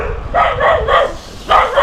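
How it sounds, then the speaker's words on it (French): Tied-up dogs bark in a quiet rural village, several close, loud barks in quick succession with a short pause before a final bark. "Les chiens, ils sont attachés ceux-là."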